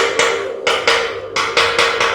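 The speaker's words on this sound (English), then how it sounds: "whenever I'm using the chipping hammer so I don't get slag into the eye." A chipping hammer strikes slag off a weld on a Range Rover P38 bumper rework, six or seven sharp metallic knocks in an uneven rhythm, close and loud over a faint steady hum.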